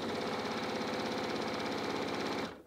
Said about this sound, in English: From here, I'm gonna go ahead and sew.